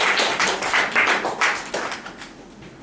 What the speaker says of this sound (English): so then I would everyone give a good applause to Liam for completing his P1